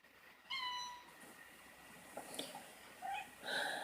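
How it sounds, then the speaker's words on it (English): A pet cat meows several times, fairly faint and close, with drawn-out tonal cries and short pauses between them, alone without talk. "this is my cat, and she wants to be in my video today"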